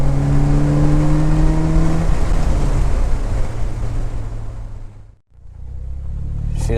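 An Opel Speedster engine pulling hard in third gear on the Spa-Francorchamps circuit, a loud close droning roar under heavy wind buffeting that dips briefly near the end, as with a gear change, then resumes.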